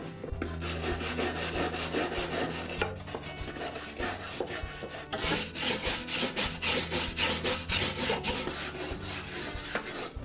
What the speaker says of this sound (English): Now I'll clean the entire underside of the deck with a wire brush.